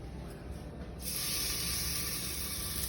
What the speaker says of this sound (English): we have to pan sear it